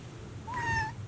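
A cat gives a single short, clear meow, rising slightly and then falling, close by against a quiet background.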